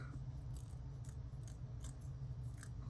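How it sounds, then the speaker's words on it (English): Scissors trimming the outer edge of a handmade holiday shaker card, giving a steady, close rasping snip that runs continuously under a low background hum with no talking. "take your scissors and we're going to trim the outer edge away"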